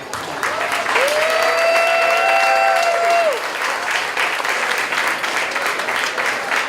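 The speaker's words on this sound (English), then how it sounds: "give Claire a round of applause for 16 years of service in the legislature" A room full of people at a political campaign kickoff event claps steadily and loudly for several seconds, with a brief high tone rising and falling early on.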